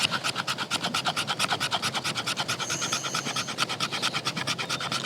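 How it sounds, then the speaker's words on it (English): A cheap survival knife scrapes fatwood in rapid, steady back-and-forth strokes, a close, raspy scratching that repeats without pause and stands alone without speech. "let's see how well this thing will scrape some fat wood"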